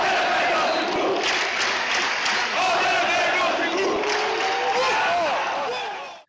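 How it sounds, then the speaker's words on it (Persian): A large football stadium crowd chants in unison for Adel Ferdowsipour, a dense, continuous roar of many voices with rhythmic shouted phrases rising and falling throughout. "تماشاگران به جای تشویق تیمشان او را تشویق می‌کنند"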